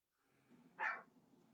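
A single short dog bark rising out of quiet room background, fairly faint and distant, heard alone with no talk.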